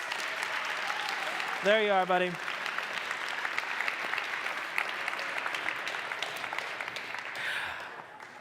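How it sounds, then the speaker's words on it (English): An audience at a TEDx youth talk gives steady applause that runs the whole stretch, with a person speaking briefly over the clapping near the start. "everyone give him a round of applause"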